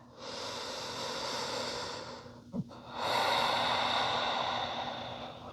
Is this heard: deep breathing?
yes